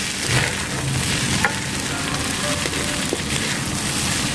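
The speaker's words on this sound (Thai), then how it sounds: "คลุกเลยนะคะ ให้น้ำซอสเนี่ยโดนไปให้ทั่วข้าวเลยนะคะ" Rice is stir-fried with canned fish and sauce in a pan, a close, continuous sizzle and crackle with occasional scraping stirs of the spatula.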